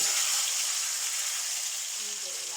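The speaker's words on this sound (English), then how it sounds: "I've got my oil, which is really hot, and I'm just gonna place this in" Marinated pork pieces dropped into very hot oil for a pot roast, giving a loud, continuous bright sizzle that fills the clip and eases slightly toward the end, with no talking.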